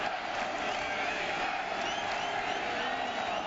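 Football stadium crowd at a Nebraska versus Nevada college game, a constant distant roar of many voices, even and unbroken throughout.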